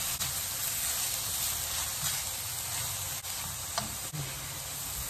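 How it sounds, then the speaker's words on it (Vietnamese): Meat stir-frying with onion in a hot pan gives a steady, close sizzle and hiss throughout, with a few faint clicks of the utensil against the pan and no talking. "Xào cho thịt nó chín rồi Lan mới nêm miếng vô nha"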